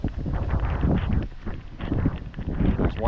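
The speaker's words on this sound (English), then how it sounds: "on a very windy evening" Gusty wind buffets the microphone in steady low rumbling waves during an evening walk in Maine, with voices faintly underneath.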